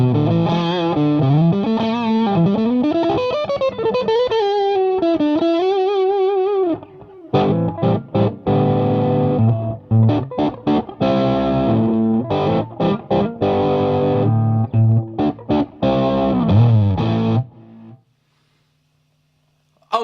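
Electric guitar played through a Strymon Sunset overdrive pedal with the two-stage side off, loud and driven: a sliding sustained lead line first, then a run of choppy rhythmic chords with short gaps, ending in a brief quiet tail.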